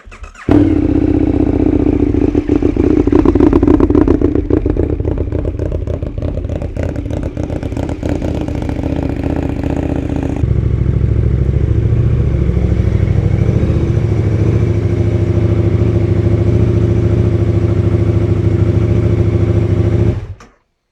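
A freshly washed motorcycle starts and idles loudly up close, its engine settling into a steady, throbbing run with a noticeable shift in tone midway, then cutting off abruptly at the end.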